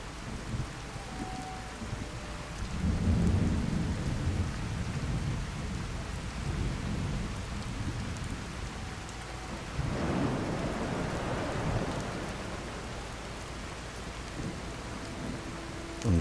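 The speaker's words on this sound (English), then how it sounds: "And I thought I heard rain." Steady rain falls outside a house's back door, a soft constant wash, while low rumbles of thunder swell and fade at a distance twice.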